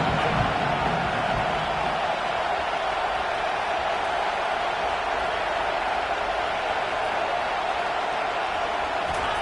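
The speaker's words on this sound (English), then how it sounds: "This crowd rising up, sensing that his defense needs some help." A football stadium crowd rises into a steady, broad roar of cheering that holds at an even, distant level throughout.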